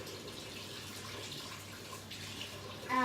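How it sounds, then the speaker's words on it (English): Warm water runs from a household tap fed by gas hot water, a soft steady hiss heard faintly at low level, with a brief louder sound at the very end. "I'm sure you know what it's like to get warm water out of the tap"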